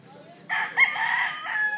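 A rooster of a pedigreed breed crows once, a short, near call rising and holding for about a second and a half over a quiet background.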